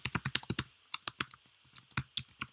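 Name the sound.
typing username on computer keyboard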